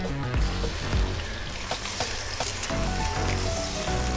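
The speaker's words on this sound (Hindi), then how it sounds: "5 मिनट के लिए हम इसे फ्राई कर लेंगे।" Chicken in about a cup of oil sizzles and fries steadily in a kadai over a medium flame, a close, continuous crackle with occasional stirring clinks and no talking.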